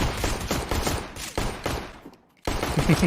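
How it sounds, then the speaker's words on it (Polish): Rapid bursts of gunfire from the video game Counter-Strike, loud and dense, fire in quick succession, then drop to near silence before another burst starts. "Click your mouse, your character shoots, your target takes damage."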